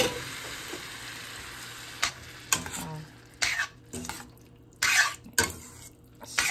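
Homemade meat sauce with canned diced tomatoes cooks in a pan for lasagna, a low bubbling sizzle punctuated by clattering stirs and spoon scrapes against the pan, close and otherwise quiet.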